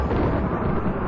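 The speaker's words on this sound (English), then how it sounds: "And we got a thunderstorm." A dense, continuous low rumble of thunder from a thunderstorm in the video game Rimworld, loud and sustained without pauses.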